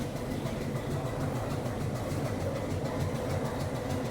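Train running between Coonoor and Ooty, a steady rumbling rail noise with faint rhythmic clatter continuing throughout, fairly close and with no voices.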